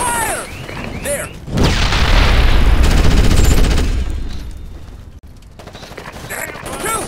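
Loud bursts of automatic gunfire and booming shots in Ghost Recon Advanced Warfighter 2 during a firefight, rolling over several seconds while soldiers shout over the battle.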